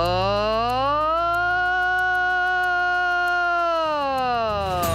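A voice imitates a Bigfoot scream, a long, wailing siren-like sound holding a steady harmonic tone before sliding down in pitch at the end.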